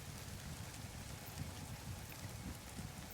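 Steady in-game rainfall in No Man's Sky on a floating island, a dense, even hiss of drops with low rumbling patter underneath, quiet and continuous throughout without any talk.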